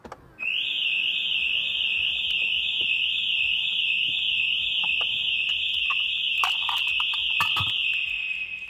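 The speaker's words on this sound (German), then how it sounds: "Es passiert Folgendes, die Alarmanlage geht natürlich an." A factory-fitted Mercedes car alarm sounds a loud, continuous high electronic tone that starts abruptly and holds steadily for several seconds, with a few clicks and handling noises partway through.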